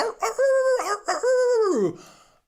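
A rooster in a city neighborhood in Puerto Vallarta, Mexico, gives one full crow, close and loud, its drawn-out call trailing off at the end.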